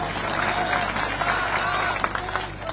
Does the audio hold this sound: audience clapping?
yes